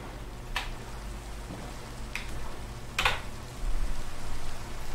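Soft, steady rain patters in Minecraft, with a few sharper drip-like ticks standing out over the low, continuous wash.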